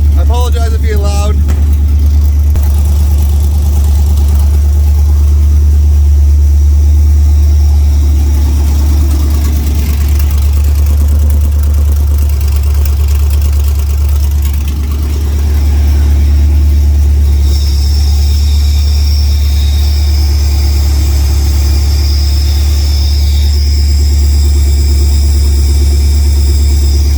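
An LS-swapped engine in an OBS Ford truck idles steadily under the open hood, a loud continuous low rumble that holds throughout, with a brief talking voice near the start.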